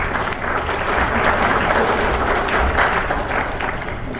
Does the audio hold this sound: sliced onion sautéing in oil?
no